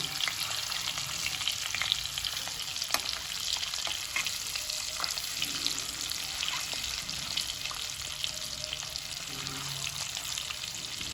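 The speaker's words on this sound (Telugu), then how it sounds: "ఒక టూ మినిట్స్ అయితే మనం ఈ విధంగా ఫ్రై అయితే చేసుకోవాలి" Eggs deep-frying in a pan of oil for egg biryani give a steady, close sizzle for about eleven seconds, with scattered pops and light clicks as they are stirred; no voices.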